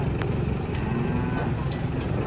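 A cow lows in a steady, deep moo amid a busy livestock scene beside a truck, with engine rumble and background noise underneath.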